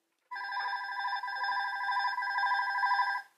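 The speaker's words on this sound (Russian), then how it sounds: "У нас есть телефон, который уже звонит." A telephone rings with a steady electronic tone in one long unbroken burst of about three seconds, loud and close against silence.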